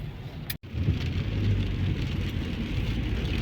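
Steady rain pattering on a surface, with a low rumble beneath and a brief dropout near the start.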